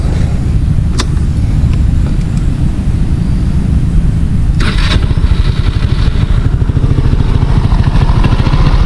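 An Easyride 150P motorcycle engine starts and settles into a loud, steady idle, with a rattling noisy rear fender heard close by. A couple of brief sharp knocks come through over the running engine.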